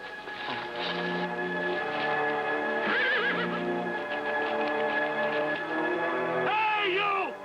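A wild Palomino horse neighs in a 1950s western television scene, with loud, shrill whinnies rising around the middle and again near the end over a steady tonal background.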